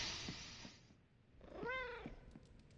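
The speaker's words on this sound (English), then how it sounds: "Oh, the cat." A cat gives a soft hissing purr-like rumble, then after a brief pause a short rising and falling meow, close and fairly quiet with no talk.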